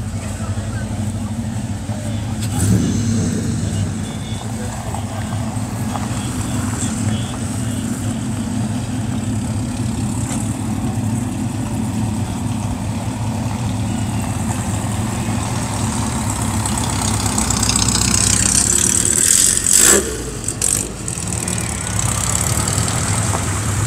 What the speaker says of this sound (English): There's a 68 Camaro leaving. Love this car. This car sounds so good.